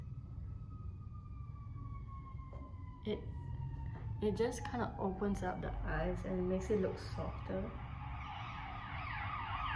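A police siren wails from outside, faint at first and sliding downward in pitch, then swelling and wavering under a woman's nearby speech in a quiet room.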